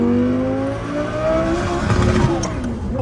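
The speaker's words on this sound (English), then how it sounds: "I hit the rev limit." A 2000hp Lamborghini engine revs hard toward its rev limit, a loud, rising howl with climbing harmonics that holds near the top before easing off.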